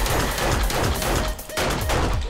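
Pistol shots crack in 7 Days to Die. The rapid, loud shots come steadily and overlap into a dense barrage with one short lull.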